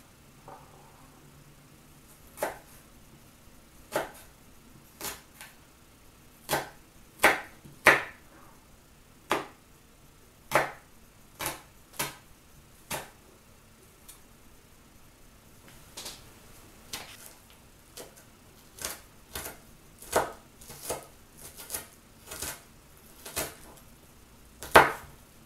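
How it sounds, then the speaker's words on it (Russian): A knife chops onion and garlic on a cutting board in sharp, irregular taps, sometimes in quick clusters, close and fairly quiet in a still room. "лучок вот я порезала, получилась вот такая полная ложечка, и чесночок я тоже мелко нарезала"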